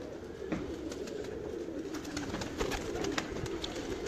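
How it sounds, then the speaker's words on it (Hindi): Pigeons coo softly and repeatedly in a kept flock, their low murmuring calls layered over a steady background of rustling and faint clicks. "आए जी मेरे फेवरेट कबूतर"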